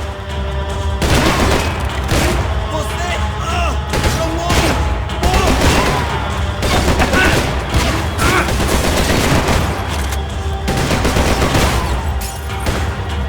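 A sustained volley of gunfire fills a shootout in Max Payne 3, with rapid overlapping shots and booming impacts, loud and close, continuing without pause across the whole stretch.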